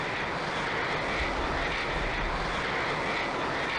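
A fighter jet in the flight simulator Falcon 4 Allied Force rolls for takeoff with a steady, loud engine roar and low rumble, continuous and close.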